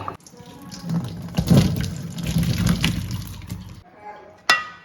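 Water from boiled tapioca pours and splashes as it is drained off in a home kitchen, a sustained close gush with clattering pot sounds and a brief sharp knock near the end.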